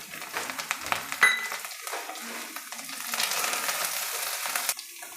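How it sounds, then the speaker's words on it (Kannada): Chopped onion, mint and coriander leaves sizzle and fry in a pan with oil, a steady crackling hiss with a few stirring scrapes, the frying growing louder and denser toward the end. "ಸಣ್ಣದಾಗಿ ಕಟ್ ಮಾಡಿರೋ ಒಂದು ಈರುಳ್ಳಿನ ಸೇರಿಸ್ಕೊಳ್ತಾ ಇದ್ದೀನಿ ಸಣ್ಣದಾಗಿ ಕಟ್ ಮಾಡಿರೋ ಪುದೀನ ಕೊತ್ತಂಬರಿ ಸೊಪ್ಪು"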